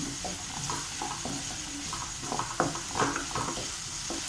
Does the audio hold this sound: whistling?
no